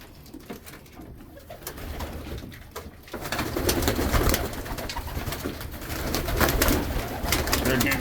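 Pigeons in a loft coo and flutter at feeding time. A dense, continuous flock chorus swells noticeably after the first few seconds and stays close and busy throughout.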